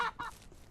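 Two quick honking squawks from a chicken in the game Ranch Simulator, like a hen or goose call, close and brief, followed by a low quiet tail.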